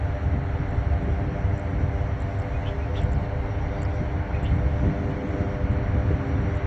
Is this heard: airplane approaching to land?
yes